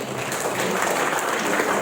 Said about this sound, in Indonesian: Tepuk tangan buat Bu Dewi